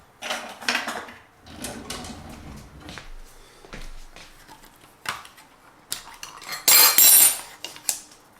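Metal measuring spoons clatter and jingle in bursts as someone rummages for a half teaspoon in a kitchen, close and fairly loud with brief pauses.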